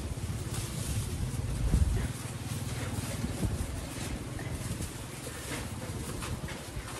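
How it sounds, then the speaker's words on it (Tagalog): Strong gusting wind buffets the microphone in a constant low rumble, swelling louder around the second mark, with faint voices in the background. "Grabe hangin guys."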